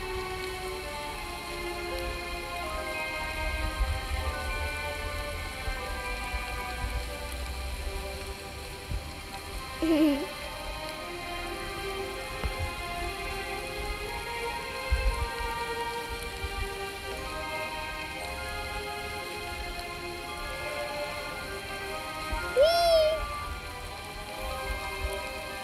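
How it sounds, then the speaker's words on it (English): Steady rain falls in the Roblox game Royale High, a continuous even patter running throughout, with a couple of brief chime-like game sounds rising over it. "It's raining."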